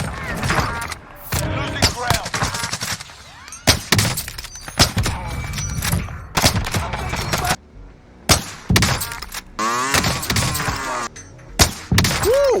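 Gunfire in Call of Duty Warzone while sniping with a Swiss K31 rifle: sharp, loud shots and impacts in irregular bursts with game effects, under a player's talk.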